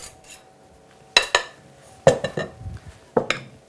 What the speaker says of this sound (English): Let the metal spoon cut the egg white.